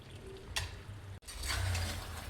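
Vegetables frying in hot spiced oil for a Nagpuri Saoji chicken dish, a steady close sizzle with a brief stir around the middle, no talking.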